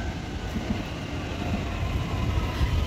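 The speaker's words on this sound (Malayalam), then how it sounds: "ട്രെയിനാണോ വരുന്നത്? നമുക്ക് ഇതേ ട്രെയിൻ വരുന്നത്." A train pulling into a station in Germany, heard as a steady low rumble and rolling roar that stays even and fairly close for the whole stretch, with no talking.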